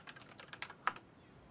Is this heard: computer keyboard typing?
yes